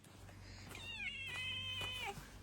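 A cat gives one long, drawn-out meow that rises and then falls, fairly close but quiet, over a faint background hum with no talking.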